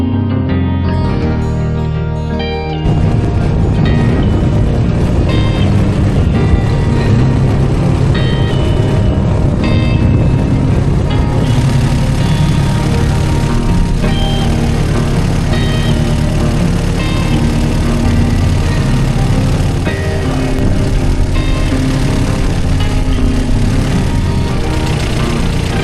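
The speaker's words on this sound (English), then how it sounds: "We also brought along this International W6, and it's going to be driving the peg drum." An International W6 tractor engine runs steadily and loudly throughout, a dense continuous mechanical drone close by, starting with a brief quieter moment before settling into a constant roar.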